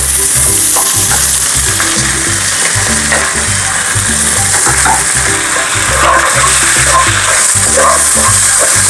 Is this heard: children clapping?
no